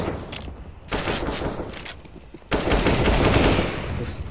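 Rapid bursts of automatic gunfire in the video game CS:GO crackle in dense volleys, loud and close, with a brief lull before a heavier burst.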